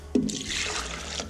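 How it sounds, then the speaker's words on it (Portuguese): Vinegar and other liquids poured into a blender jar for a Bhut Jolokia pepper sauce, a short steady liquid rush that starts with a brief splash and runs close and clear with no talking. "Vamos pegar os líquidos para colocar dentro do liquidificador,"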